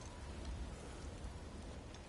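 A rainstorm in the game God of War Ragnarok, a faint, even roar of heavy rain with low rumbling underneath, steady throughout with no speech.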